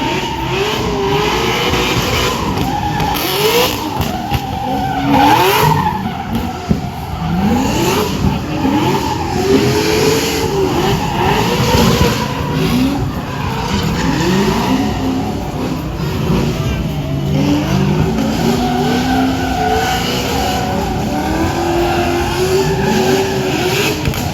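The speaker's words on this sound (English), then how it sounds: "Both cars circle working around Matty Mingay." Two drift cars circle around a third at a MotorEx drift show, engines revving and wavering up and down while tires squeal and skid continuously, loud and close, with an announcer's voice partly over the noise.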